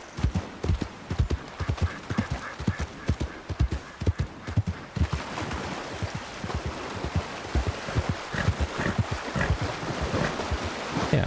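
Horse hooves clip-clop at a steady trotting rhythm in Red Dead Redemption 2, close and distinct, over wind and surf-like ambience that swells midway.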